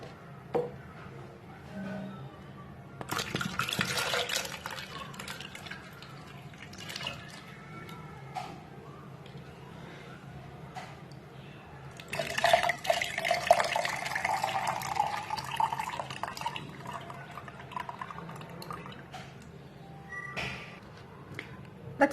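Water drained from a boiled coconut pours and trickles in uneven bursts, with splashes swelling twice into a steadier flow, faint and close amid small handling noises.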